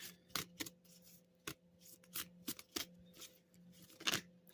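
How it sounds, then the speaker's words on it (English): A deck of affirmation cards is shuffled and handled, giving a series of sharp, irregular flicks and snaps close by against a faint steady hum, with no speech. "Let's get us an affirmation card."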